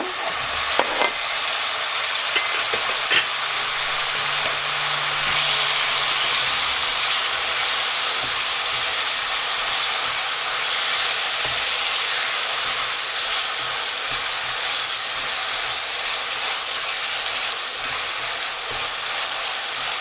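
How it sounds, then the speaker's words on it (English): Chopped tomatoes frying in a curry pan, a continuous loud broadband sizzle and hiss lasting throughout, close up, with a few faint utensil taps early on. "Then I'm going to add the tomatoes in."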